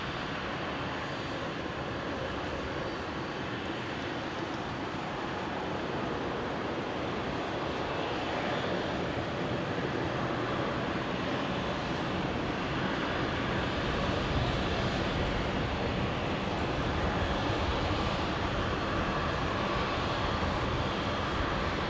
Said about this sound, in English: A race between the Qantas Link Dash 8 there and the Virgin 73.